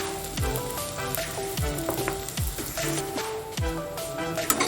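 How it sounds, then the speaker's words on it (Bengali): Finely chopped onion, salted early, sizzles and crackles steadily in hot oil in a pan for an egg masala, with a few clinks and stirs of a utensil, close and loud, no talking. "তেলটা গরম হয়ে গেছে, দিয়ে দিচ্ছি ছোটো করে কাটা পেঁয়াজ।"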